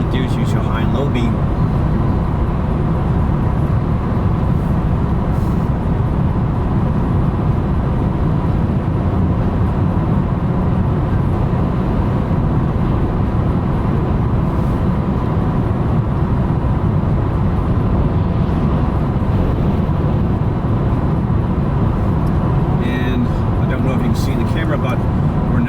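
Steady broadband road and engine drone inside a 2019 Chevrolet Spark cruising on the highway, continuous and loud throughout, with a voice talking over it.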